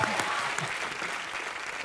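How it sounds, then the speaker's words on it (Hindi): Loud studio audience applause on a Hindi comedy talk show, dense continuous clapping filling the room steadily throughout, with a few sharper claps standing out. "जोरदार ताली बजाने के लिए।"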